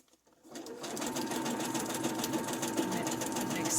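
A sewing machine stitches through paper roll snippets, starting up after a brief quiet and then running as a steady, rapid, close rattling hum.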